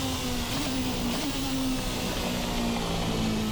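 A 4-cylinder engine of the Formula RSS Supreme racing car in a sim racing game, holding a steady high drone that wavers slightly in pitch, continuous and loud with no talk.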